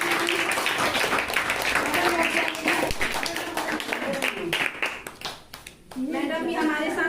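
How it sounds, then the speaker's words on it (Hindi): An audience at a science demonstration show claps, rapid scattered clapping that mixes with a crowd's voices and then fades, after which someone speaks. "सब लोग ताली बजाओ, मैडम भी"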